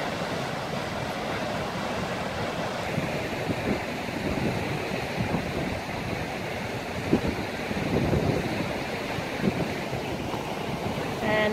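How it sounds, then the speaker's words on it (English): The fast-flowing Truckee River rushes in a steady broadband roar at Idlewild Park during a spring festival, with wind buffeting the microphone throughout. "this is the mighty Truckee River"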